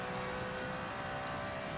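A V8 race car engine in Gran Turismo drones steadily and loudly for the whole stretch, a dense, even roar with no pauses and no voices.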